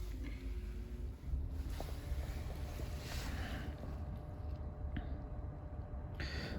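A high-mileage car engine with low oil pressure idles steadily while warming up, a continuous low rumble with some wind-like noise, close and fairly loud, with no voices.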